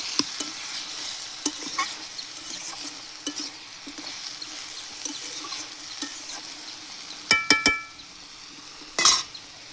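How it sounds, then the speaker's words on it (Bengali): Cauliflower frying with shrimp in a pan hisses softly on low heat while a spoon stirs it, with scattered scrapes and a few louder metallic clinks near the end and no voices. "এবার আমি ঢাকনাটা খুলে আবার একটু নেড়ে ছেড়ে দেবো।"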